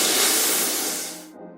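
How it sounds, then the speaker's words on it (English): Bead blasting an aluminum gimbal part makes a loud, steady hiss of spraying media that fades and cuts off abruptly after about a second and a half. "let's get rid of that ugly shininess by bead blasting it"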